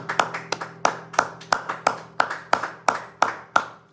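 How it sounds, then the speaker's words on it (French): A congregation claps in a steady rhythm to acclaim the Lord, about a dozen sharp, evenly spaced claps in unison with a low hum underneath and no talk. "On acclame très fort pour le Seigneur"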